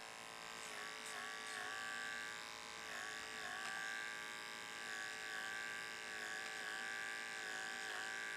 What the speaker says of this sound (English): you have one of these clippers handy, the detachable blade clipper, because you can see how easily it goes through all this hair